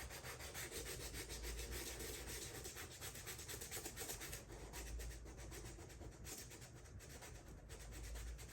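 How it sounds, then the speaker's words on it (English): Wood being hand-sanded while customizing roller skates, a continuous close rubbing scrape with steady back-and-forth strokes, alone and fairly quiet. "Better do some sanding."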